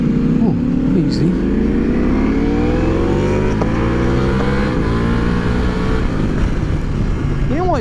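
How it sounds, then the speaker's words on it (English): A 2023 Ducati Multistrada V4 Pikes Peak motorcycle with a standard exhaust runs on the road, its engine droning steadily and rising in pitch as it accelerates, with wind noise and a voice speaking over it. "the exhaust sounds great for if it's a standard one"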